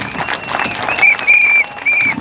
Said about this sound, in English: Give the guys up here a clap